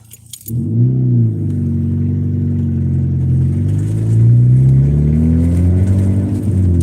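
A car engine starts up and pulls steadily uphill near Tillamook, Oregon, running low on gas, its mid-pitched drone rising as it works harder, with a brief jingle of keys at the start and no talking.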